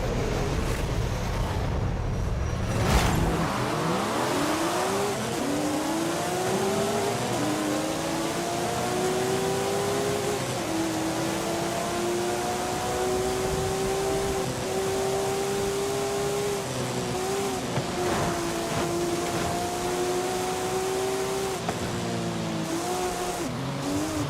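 Old-school Porsche 911 GT3 in Forza Horizon 5, fitted with an aftermarket exhaust, revving hard with rising and falling engine tones through the gear changes. The engine and exhaust note is loud and steady, with no talk.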